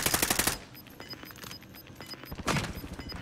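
Rapid bursts of automatic gunfire in a Call of Duty match, a loud volley up front, then scattered shots with faint periodic beeps, and another burst near the end, with no talking.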